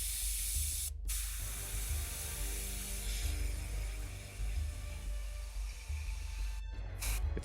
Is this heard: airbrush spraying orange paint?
yes